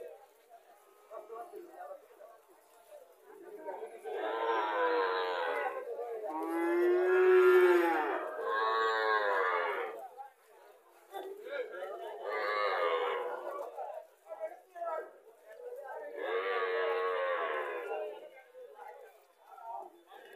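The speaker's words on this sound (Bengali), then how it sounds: "এখানে কিছু বাছুর আছে।" Calves at a village cattle market in Cumilla moo repeatedly, several long drawn-out calls spaced across the stretch, fairly close and loud in a quiet setting.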